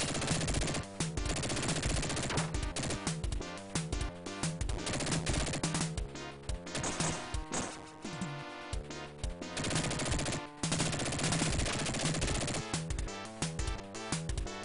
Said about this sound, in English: he's not throwing any Molotov bomb, he's just using a machine gun